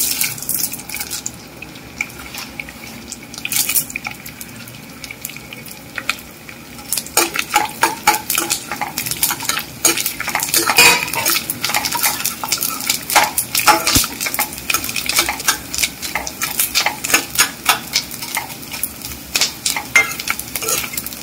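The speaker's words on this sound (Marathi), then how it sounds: "आणि आता ह्याच्यात मीडियम फ्लेमवरती घातलेला आहे डिंक. हा कच्चा डिंक घातलेला आहे." Raw edible gum (dink) fries on a medium flame with a continuous sizzle, while dense clattering stirs and scrapes of a utensil against the pan grow busier through the second half.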